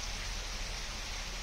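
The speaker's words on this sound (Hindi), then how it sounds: "कोंडा गांव में झमाझम बारिश हुई, इलाका पूरा तरबतर हो चुका है" Heavy rain pours down in a village in Bastar, a dense, even hiss of downpour on surfaces with no voices.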